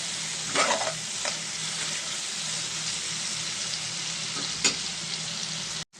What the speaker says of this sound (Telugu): ఇక్కడ మనకి టమాటా కూడా బాగా మగ్గుతుందండి.